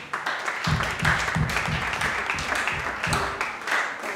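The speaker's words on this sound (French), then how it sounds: "Est-ce qu'on peut applaudir pour ça?" A church congregation applauds steadily, dense clapping with a rhythmic low thumping underneath, lasting throughout.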